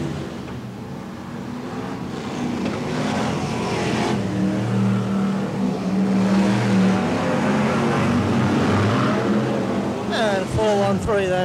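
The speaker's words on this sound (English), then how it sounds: "BriSCA Formula 1 stock cars, and away we go." BriSCA Formula 1 stock cars roar off at the start of a race meeting at King's Lynn's Saddlebow Road track, a loud, continuous blend of engines building and revving, with a commentator's voice running over the noise.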